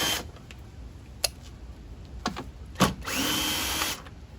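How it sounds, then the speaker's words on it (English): Bumper bolts come off a 2013–2014 Kia Forte with a power tool, heard as brief close whirring bursts and clicks, the longest spin near the end, against quiet garage background with no speech. "We're just going to remove out these bolts here."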